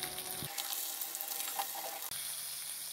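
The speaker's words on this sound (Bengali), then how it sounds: "মাছটা এক সাইড ভাজা হয়ে গেছে," Rui fish frying in hot oil, a loud steady sizzle with crackling spatter that drops out briefly near the start and again for an instant before resuming.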